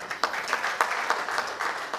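An audience at a tax conclave's inaugural session applauds steadily, a dense patter of many hands with a few louder claps recurring throughout the short burst.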